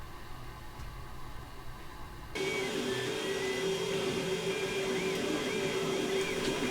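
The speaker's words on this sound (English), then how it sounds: "This is my slightly modified Geeetech printer." A slightly modified Geeetech 3D printer runs, its steady motor whir jumping louder partway through and then holding a constant hum with a faint stepping whine as it prints parts for a Christmas light sign.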